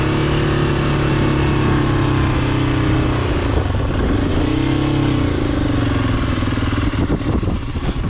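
Motorcycle riding over powdery dirt road in the Chilean desert near Antofagasta, a loud continuous engine drone with the pitch rising and falling as the throttle shifts, close and steady with wind rush.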